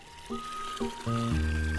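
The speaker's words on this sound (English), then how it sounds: "Get the watering can, fill it with water." A watering can being filled with water in the video game Wanderstop, a short pouring sound mixed with soft chiming game tones that swell and hold toward the end.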